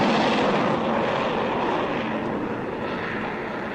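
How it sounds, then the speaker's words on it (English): A propeller plane engine drones overhead in a radio drama set on Mars, a loud, steady rumbling hum that holds throughout and slowly fades slightly toward the end, with no voices. "Sounds like a plane of some kind."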